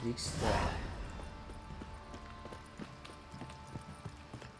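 Horse hooves clip-clopping at a steady walking pace in The Witcher 3, moderately near, after a brief louder swell at the start.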